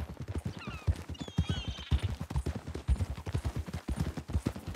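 Horse hooves clomping in a steady, rhythmic gait in Red Dead Redemption 2, close and fairly loud, with a few faint whistle-like tones above the walking beat.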